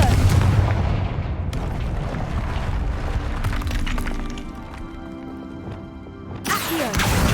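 Confringo fire spell blasts in Hogwarts Legacy, loud booming explosive bursts amid busy combat noise, with hard impacts at the start and end and no talk over them.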